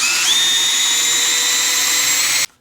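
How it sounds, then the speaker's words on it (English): A power drill spins steadily inside a Willys Jeep Dana rear axle, a loud, close, continuous high whine that holds for over two seconds, then stops abruptly. "the glove and the drill makes it so much easier than turning it by hand"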